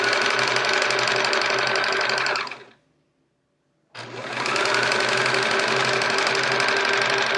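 A sewing machine runs steadily at speed stitching quilt fabric pieces, a loud close mechanical whir that stops abruptly for about a second and then starts again at full pace.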